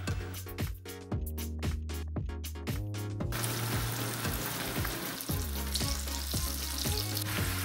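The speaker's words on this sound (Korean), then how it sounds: "그리고 당근을 넣고 익혀주세요" Long slices of carrot frying in butter in a frying pan, a steady close sizzle that swells louder after a few seconds, with occasional stirring clicks and no talking.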